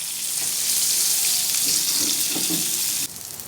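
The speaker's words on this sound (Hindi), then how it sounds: "इसी तरीके से दूसरी साइड को भी अच्छे से फ्राई कर लेंगे" Masala aubergine (baingan) frying on a tawa gives a steady, loud, close hiss and sizzle that drops a little in level near the end.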